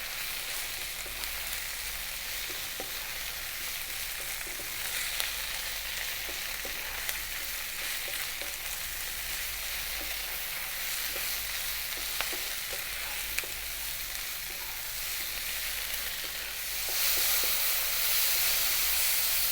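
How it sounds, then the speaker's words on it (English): Mushrooms stir-frying in a pan over high heat while being kept moving, a steady, close, dense sizzle and hiss with faint scraping stirs throughout, swelling louder near the end, with no talking. "you can hear that we're getting a little bit of moisture from our mushrooms"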